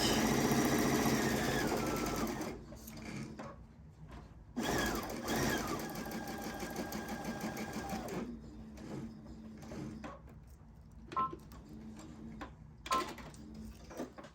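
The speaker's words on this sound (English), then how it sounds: "I normally would stitch it once and go back over it, just to make it a secure stitch." A sewing machine stitching a patchwork envelope-back pillow cover runs in several bursts, a steady whirring drone broken by pauses with small clicks and ticks, close and clear.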